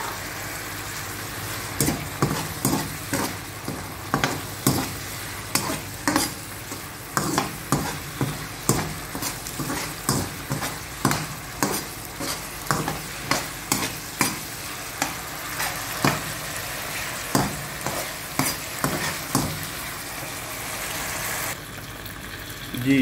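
Boiled macaroni being stirred and fried in a pan, with a steady sizzle broken by a regular series of sharp spoon scrapes and clatters against the pan, close and fairly loud, with no talking.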